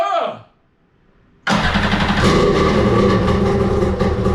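A jet boat engine cranks and catches on its first start, bursting from near silence into a loud, rough, steady idle roar that continues after a brief whine of the starter.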